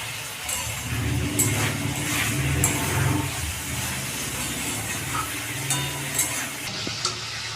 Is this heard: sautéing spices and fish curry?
yes